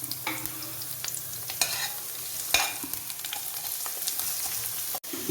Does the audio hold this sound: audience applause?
no